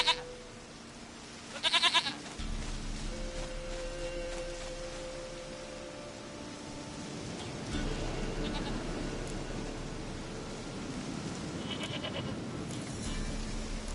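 A goat in The Witcher gives short bleats over quiet game ambience and soft background music, the calls brief and moderately close.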